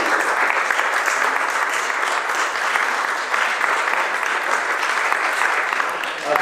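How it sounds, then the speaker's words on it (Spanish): A lecture audience gives a farewell round of applause to Raquel after a talk on superstition and religiosity in Spanish jewellery, steady, full clapping sustained throughout without talk. "Vamos a despedir a Raquel con un aplauso"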